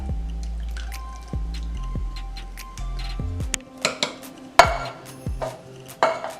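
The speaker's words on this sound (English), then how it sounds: "And a can of diced tomatoes, and you don't want to drain it, you just want to pour it in." Canned diced tomatoes pour undrained into a crockpot for chili, giving wet plops, drips and soft squelches along with a few clinks of can against pot, all heard close up.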